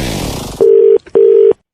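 Two sustained touch-tone dialing beeps ring out clearly on a phone line as a prank call is placed, following a short burst of other sound, each tone steady and separated by a brief gap.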